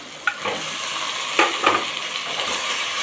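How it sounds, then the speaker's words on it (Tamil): Quarter kilo of chicken sautéing in hot oil in a pan for pepper chicken rasam, a steady close sizzle broken by a few sharp stirring scrapes, with no talk. "அதையும் கூட சேர்த்து நல்லா வதக்கிக்கலாம்."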